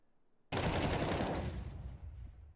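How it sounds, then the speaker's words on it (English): Rapid automatic rifle fire during a Counter-Strike esports match, a loud sudden burst of shots that starts abruptly and rings on as a sustained volley before easing off. "that Hero AK floored by Kixin on short"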